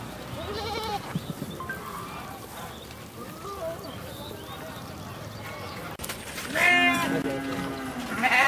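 Goats on a large farm bleat while eating straw, with scattered calls near and far and a louder cluster of bleats toward the end, over a busy background of rustling and shuffling.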